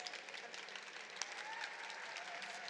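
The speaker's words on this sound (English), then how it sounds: "do give it a round of applause" Audience applause at a panel event on women's empowerment and impact: a steady, dense wash of clapping from a crowd, fairly soft and even throughout, without a clear start or finish.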